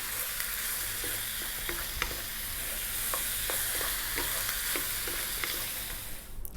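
Avocado sauce sizzles steadily in a hot pan as pasta is stirred through it, with soft scraping taps scattered across the continuous frying hiss.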